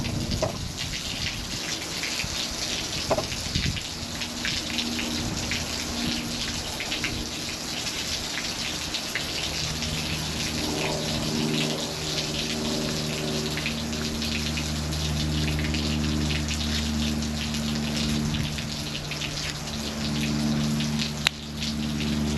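Water gushes and splashes steadily out of a water heater as its rod is replaced, a continuous broadband rush lasting throughout, with a low hum and clanks toward the end.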